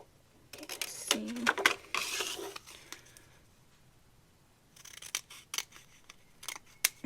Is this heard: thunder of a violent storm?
no